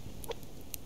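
Chickens clucking in the survival video game Subsistence, a couple of short quiet clucks over a steady low background ambience.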